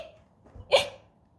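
A voice mimics a skeleton's hiccup during a Halloween picture-book reading: one sharp, breathy hic bursting out near the middle of an otherwise quiet moment.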